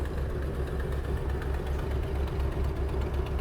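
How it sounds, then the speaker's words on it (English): A 1973 Buick's engine idles steadily at a gas station, a low, even rumble that holds throughout without talk. "listen to the car. Can you hear the car?"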